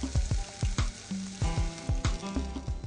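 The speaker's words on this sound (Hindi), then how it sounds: "अब जैसे लहसुन फ्राई हो रही है" Garlic fries in a pan with steady, close sizzling, broken by repeated sharp clinks and stirring knocks in an uneven rhythm, and no voices.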